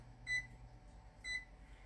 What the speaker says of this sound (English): I'm going to set the timer for 12 minutes